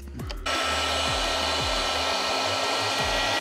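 A heat gun blows steadily and loudly, shrinking heat-shrink crimp connectors onto campervan power cables, with a continuous broadband roar. A few low thumps and clicks from handling break through underneath it.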